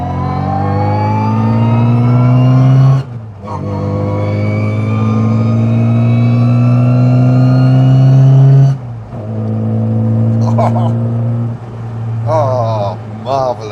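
A small MG Midget vintage sports car engine with a Lenham Le Mans GT body revs loudly and climbs through the gears, bogging briefly, pausing at each shift before pulling hard again, heard close up.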